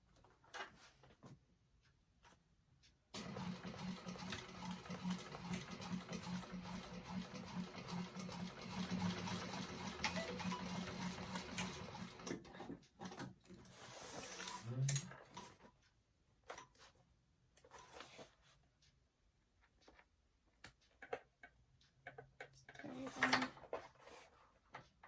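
Sewing machine topstitching a handbag, a fast steady whirring stitch run of about ten seconds, then short bursts and handling noises with quiet pauses between.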